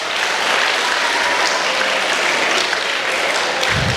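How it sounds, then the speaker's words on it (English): Continuous audience clapping during a wellness session in a Hindu college hall forms a loud, dense wash of many hands at a steady level throughout, with no talking. "Give him a little clap,"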